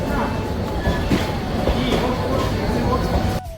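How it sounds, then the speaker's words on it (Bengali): A train runs past the crowded Airport railway station in Dhaka, a close, steady rumble with rail squeals and clatter that cuts off abruptly at the end. "ট্রেন চলে যাচ্ছে।"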